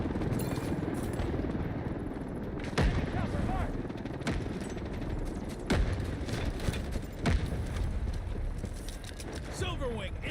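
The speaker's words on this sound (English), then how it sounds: "Artillery incoming." Artillery barrage in the shooter Delta Force: sharp distant blasts strike at irregular intervals over a constant roar of battle and helicopter rotor noise, with radio-style voice callouts running underneath.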